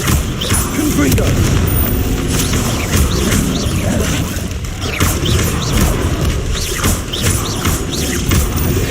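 Confringo fire spell blasts in Hogwarts Legacy combat on hard difficulty: repeated booming bursts layered into a dense, loud game mix of crashes, thuds and constant clatter.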